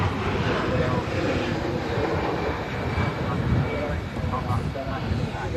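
An Emirates A380 airliner passes at Manchester Airport in strong gusty wind, giving a loud, broad engine roar under talking.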